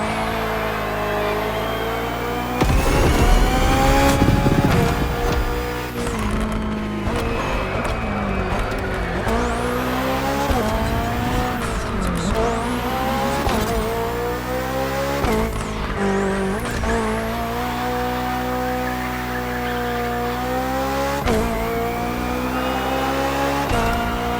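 BMW hybrid V8 race car in The Crew Motorfest racing at full throttle, its engine droning loud and continuous with rising and falling pitch through gear shifts, a brief burst of tire noise early on, no talk.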